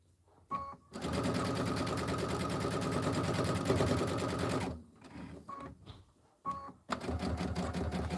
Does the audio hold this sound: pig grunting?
no